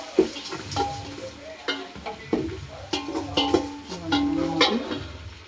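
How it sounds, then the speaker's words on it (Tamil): Small onions sizzle and fry in a pot for Tamil Nadu village-style chicken biryani, with repeated scraping and clinking stirs of a metal spoon against the pot over a steady crackle, close up and without talk. "இப்போ சின்ன வெங்காயத்தை போட்டு ஒரு கிண்டிட்டு"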